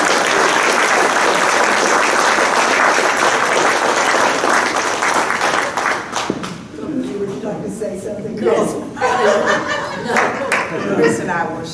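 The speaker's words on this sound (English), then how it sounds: "please give them all a round of applause." An audience at a history symposium applauds loudly and steadily for about six seconds, then the clapping tapers off into scattered chuckles and people talking.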